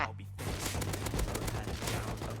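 Rapid automatic gunfire from a weapon in the video game Rust, dense loud bursts of shots with sharp repeated cracks, continuous and close.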